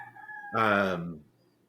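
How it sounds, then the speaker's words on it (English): A rooster in Mexico crows once, loud and near, a single long strained call of about three-quarters of a second rising out of a quiet background after faint earlier sounds. "Is that what I'm hearing? Is a rooster?"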